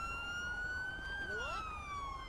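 Police car siren in GTA V wailing continuously, a loud rising and falling electronic tone with a pitch shift partway through, heard alone.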